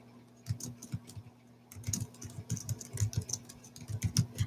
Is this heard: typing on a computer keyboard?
yes